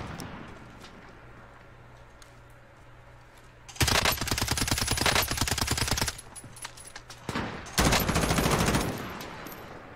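Close, loud gunfire from the video game Warzone, with two long sustained bursts of rapid automatic shots over a quieter background, and no talking.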